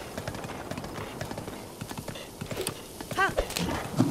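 Horse hooves clip-clop in The Legend of Zelda: Breath of the Wild, a steady run of quick, moderately loud hoofbeats over game ambience, with a brief neigh-like burst near the end and someone talking over it.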